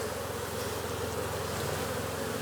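Honey bees from an opened walkaway split hive buzz in a close, steady swarm drone with no pauses. The sound stays at the same level throughout, with no voices.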